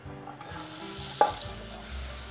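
Onions and garlic hit hot extra virgin olive oil in a pot, breaking into a bright sizzle that holds steady with a sharp utensil clink partway through, close and clear.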